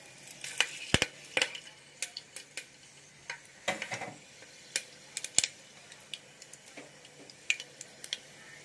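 Whole black peppercorns, cardamom, cloves and cinnamon crackle in hot oil in a pressure cooker, with a quiet bed of frying hiss broken by frequent sharp pops and spits, some louder and closer, scattered irregularly throughout.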